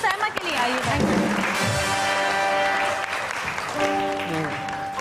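A studio audience applauds for Saima on a Hindi-Urdu entertainment show, steady loud clapping that fills the whole stretch while a host speaks over it.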